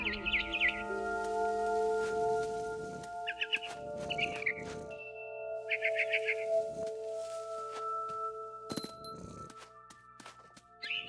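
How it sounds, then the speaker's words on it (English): Brief bursts of high, tonal chirps from a barn swallow in What Remains of Edith Finch, heard against a sustained musical drone with soft thuds and game ambience, and no one speaks. "It was a barn swallow going back to her nest."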